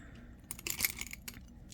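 Metal keys from a thrift-store jewelry jar jingle and clink softly as they are handled, a brief cluster of light metallic taps, faint and close.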